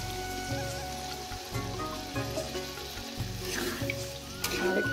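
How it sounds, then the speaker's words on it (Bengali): Water poured into a curry in hot oil that has been cooking down, giving a steady broadband hiss and crackle with repeated low thumps, close and fairly quiet, with no talk. "জল দিয়ে দিলাম তরকারিতে।"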